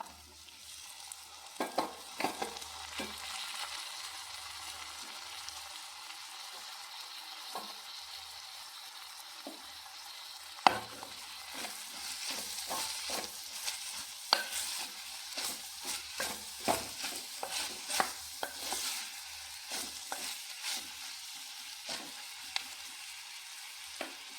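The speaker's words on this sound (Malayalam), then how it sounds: "ഇനി നമുക്ക് പച്ചക്കായ ഇട്ട് കൊടുക്കാം" Raw plantain fries and sizzles in a pan while being stirred, a steady soft hiss broken by frequent scraping clicks of the spoon, close and alone.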